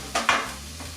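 A spoonful of tomato puree and four crushed garlic cloves drop into a hot pan for a lamb tagine. Two quick soft splats are followed by a low, steady sizzle close by, with no talking.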